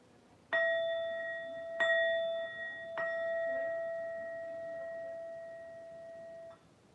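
A stream notification bell announces a new viewer joining: three clear, ringing metallic dings struck in quick succession, their tones overlapping and sustaining for several seconds before cutting off.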